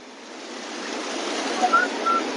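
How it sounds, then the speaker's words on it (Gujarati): Floodwater of the Singoda river near Kodinar pours heavily over a bridge, a steady broadband rush that swells slightly toward the end, with no voices. "બ્રિજ ઉપર પાણીનો પ્રવાહ છે તે ખૂબ મોટા પ્રમાણમાં વહી રહ્યો છે"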